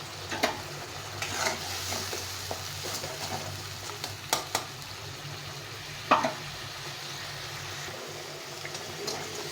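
Masala spice paste sautéed in a pan with splashes of spice-rinsing water, a low steady sizzle broken by scraping stir strokes and a few sharp clinks, close and fairly quiet with no talk.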